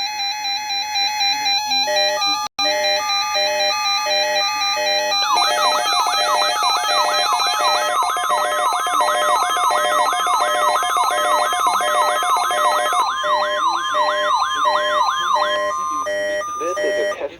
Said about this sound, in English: This is a test of the NOAA weather radio warning alarm device and the emergency alert system